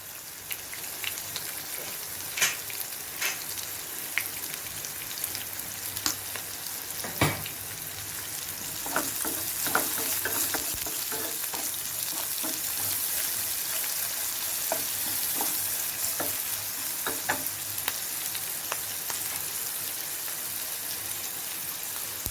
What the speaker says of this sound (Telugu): ఉల్లిపాయలు త్వరగా వేగటం కొరకు ఒక కొంచెం సాల్ట్ వేసుకుందాం